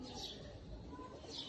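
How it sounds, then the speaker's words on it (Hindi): A Sialkoti pigeon gives a short, soft coo, faint and brief against quiet background noise. "ये नायाब तरीन कैटेगरी का दोस्तों कबूतर है"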